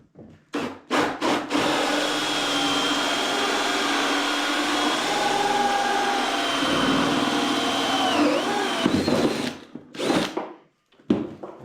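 A power tool cuts a hole for mounting a gas tank on a gas-powered Power Wheels build, a loud sustained grinding whir of roughly eight seconds between short starts and stops, close up.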